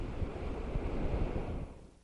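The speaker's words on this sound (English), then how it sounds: "when you get winds like this, like we get" Strong gusting wind blows dust across open ground just north of Los Lunas, a steady, roaring broadband rush that buffets close and loud before easing slightly at the end.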